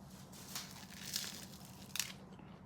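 A first bite into crunchy KFC fried chicken in Bangkok gives a few soft, close crackling crunches over a low steady background hum, the sharpest crunch near the end, with no talking.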